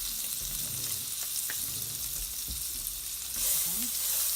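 Butter melting in a pan for a chicken parm sauce, giving a steady, close, bright sizzle with a few faint knocks and stirring sounds, swelling slightly louder near the end.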